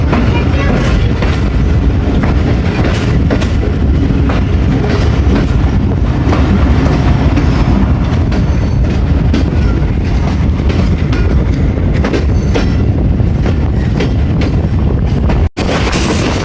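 The Awam Express train roars steadily through Sanjwal railway station at close range, a continuous loud rumble with rattling wheels, ending abruptly at the end.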